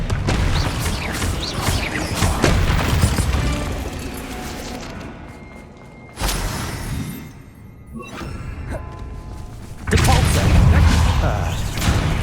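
Bombarda blasting spell explosions in the Hogwarts Legacy video game, loud booming crashes with rumbling, crackling debris tails, arriving in several separate bursts over dense game sound.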